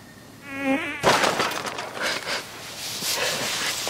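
A high, whining mosquito buzz drifts in close and alone for about half a second, then a sudden slap or thump and a noisy burst of movement take over.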